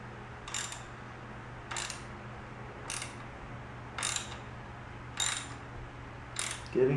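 Ratchet wrench loosening a bolt on a Royal Enfield Continental GT 650, clicking in six short, evenly spaced bursts about a second apart, close and clear over quiet background.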